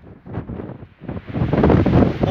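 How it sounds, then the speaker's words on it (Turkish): Strong wind gusts buffet the microphone at a hilltop rock tomb, a roaring, rumbling rush that builds in waves and grows louder toward the end, with no speech. "İleri derecede bir rüzgar var arkadaşlar."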